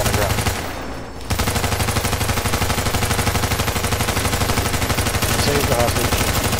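Rapid automatic gunfire from a video game hostage-rescue mission rattles continuously and loudly after a brief pause near the start, with a voice speaking over the shooting.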